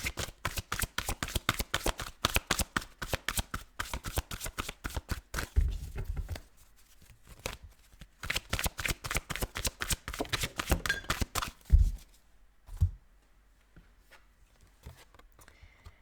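A deck of tarot cards being shuffled in quick, close riffling bursts, with a short pause partway through and the shuffling tapering off toward the end.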